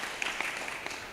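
Applause from the crowd at a SACCO annual general meeting, a dense, steady patter of many hands clapping that sounds fairly distant and soft throughout.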